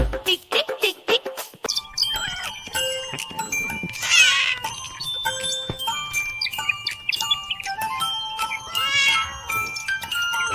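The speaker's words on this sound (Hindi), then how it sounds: "बिल्ली करती म्याऊ म्याऊ" Cat meows within a Hindi nursery rhyme for kids: several short, bright mewing calls sound over bouncy music with singing.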